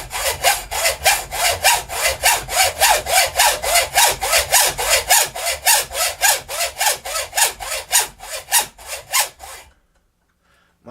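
A hand saw cuts through a steel UK 59 VZ gun barrel for a Mosin Nagant in steady, loud back-and-forth rasping strokes, about two per second, stopping abruptly near the end.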